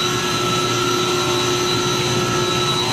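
HVAC chiller plant with two compressors running in a building mechanical room, a steady, loud, unbroken machinery drone with constant tonal hum lines throughout.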